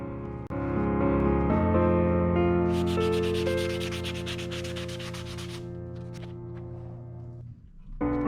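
Continuous abrasive rasping of sanding on the handle scales of a hand-forged kukri knife, steady and close for several seconds before it stops abruptly near the end.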